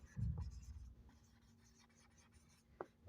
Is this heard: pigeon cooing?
no